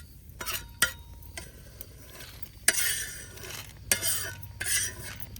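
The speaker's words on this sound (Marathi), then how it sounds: "डाळ भुजून घेतो हरभऱ्याची थोडीशी" Gram dal being dry-roasted and stirred in a pan over a village wood-fired stove, with scraping and stirring strokes of a spoon against the pan at irregular intervals and a faint background hum.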